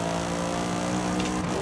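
An off-road car in Forza Horizon 5 drones with a steady, loud engine hum that holds an even pitch throughout, close and alone with no voices.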